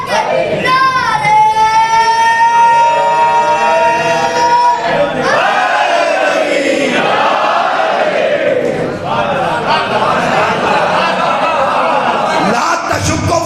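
A large crowd at a religious mehfil shouts devotional slogans in unison. A lead voice calls out a line and many voices answer in loud, rhythmic, repeated responses that fill the whole space.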